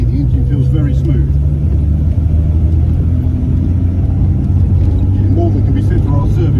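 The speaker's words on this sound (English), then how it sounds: "already the engine feels very smooth." A 1955 Jaguar XK140SE's engine hums low and steady from inside the moving car, a continuous rumble with faint road noise underneath while someone talks over it.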